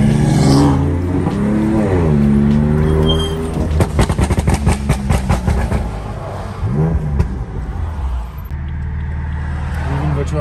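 A car arrives at the Nürburgring, its engine loud and close with rising and falling revs, rapid pulsing exhaust notes and a gear change, while people talk nearby.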